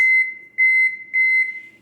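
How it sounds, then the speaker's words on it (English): An oven timer on a kitchen oven beeps in short electronic tones, a few clear chirps in a steady pattern, close and alone with no talk. "I'll set the timer for 25 minutes."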